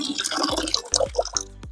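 An outdoor water tap drips and runs briefly before being shut off, with a few sharp splashes and a low squeak from the valve, close and fairly quiet.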